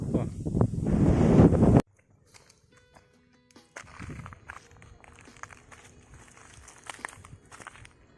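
Hilltop wind at Phantom Rock in Wayanad buffets the microphone in a loud roaring gust for under two seconds, then drops away to a faint, calm outdoor hush with light scattered noises.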